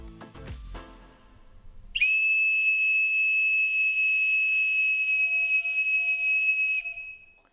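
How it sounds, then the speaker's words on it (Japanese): After some brief clattering, a single long, shrill whistle blast sounds steadily for about five seconds, clear and piercing though muffled by a sturdy closed door. "この扉、頑丈な扉を通してでもしっかり笛の音が聞こえます。"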